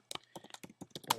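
Plain text being typed on a computer keyboard, a quick run of light, close key taps in an irregular rhythm ending in a slightly louder clack.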